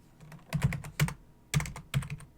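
Keys clack on a computer keyboard in quick, uneven clusters of close, crisp strokes, with brief pauses between the bursts.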